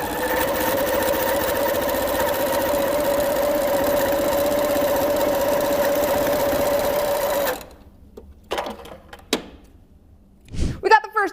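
A sewing machine stitches two quilt-as-you-go rag quilt blocks together, running in one steady, loud mechanical whir for several seconds and then stopping, followed by a few quiet handling clicks and knocks.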